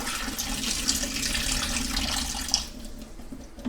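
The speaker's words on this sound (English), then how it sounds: "I'm going to rinse it one more time." Tap water runs steadily into a sink to rinse drained corn kernels, a continuous broadband splashing wash that holds even and fairly close throughout, with a couple of small clinks and no talking.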